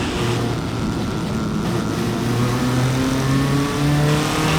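Formula race cars accelerating at Mid Ohio, a steady loud engine drone with rising whining pitch as a couple of single-seaters pass close together, continuous over track ambience.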